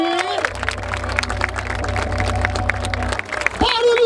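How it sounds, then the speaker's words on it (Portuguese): A crowd at a rap battle in Barueri applauds and cheers after the first round, dense clapping spread across the room over a thumping beat, with shouting voices joining near the end. "Palmas pra esse primeiro round!"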